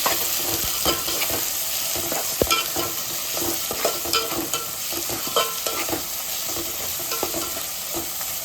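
Steady sizzling and frying in a pan, with frequent scraping stirs, while ingredients are sautéed for a South Indian fish curry (meen kulambu); close, continuous and alone, with no talking.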